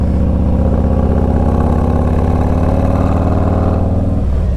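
A Harley-Davidson Street Glide Special (FLHXS) motorcycle's 110-horsepower engine pulls hard uphill, a loud, steady low throbbing rumble building under throttle for several seconds before easing off near the end; no talking.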